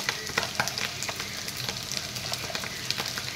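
Fish curry sizzles in a frying pan while a spoon stirs it and scrapes through the spices, giving steady frying noise with irregular close scraping taps.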